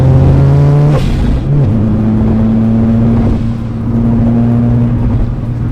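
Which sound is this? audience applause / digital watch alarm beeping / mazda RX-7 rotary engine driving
mazda RX-7 rotary engine driving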